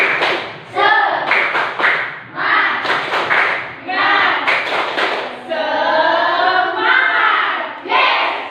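A class of children perform a rhythmic spirit clap in a classroom, with patterned bursts of hand claps between children's voices chanting loudly in unison.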